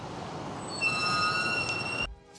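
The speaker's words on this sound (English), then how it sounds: "I then hopped on the iconic New York subway to the equally iconic Grand Central Station" A New York subway train rolls along the rails with a steady rumble, and high wheel squeals sing over it before the noise cuts off sharply near the end.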